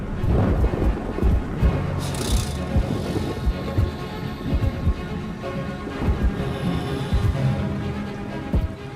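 A thunderstorm rumbles in low, rolling thunder under steady rain in a prehistoric setting, loud and continuous throughout with no voices.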